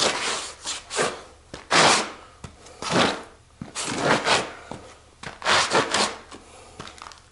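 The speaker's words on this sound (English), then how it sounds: "I'm giving it a pretty good 230 pound scrub" Vigorous back-and-forth scrubbing of oil absorbent granules into a stain on a hard floor, a gritty rasping rhythm of repeated strokes, loud and close with short pauses between passes.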